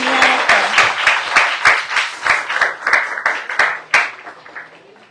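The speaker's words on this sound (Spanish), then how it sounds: "Recibamos con un fuerte aplauso a la doctora Marian Guadalupe López Cuen." A small audience claps for a doctor being welcomed to the stage at a talk. The claps are distinct and close, in an uneven rhythm, and thin out toward the end.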